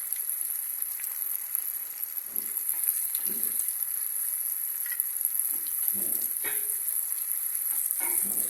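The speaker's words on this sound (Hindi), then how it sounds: "अब मैदा लगा के इसको फ्राई करेंगे।" Flour-coated chicken pieces fry in hot oil for chicken fried rice, giving a continuous hissing sizzle with scattered louder pops and spatters, heard up close without talk.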